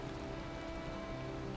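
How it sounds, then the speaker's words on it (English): Steady rain patters continuously over a quiet game scene, a soft even hiss of drops with a faint low hum beneath and no other sounds standing out. "it's raining right now"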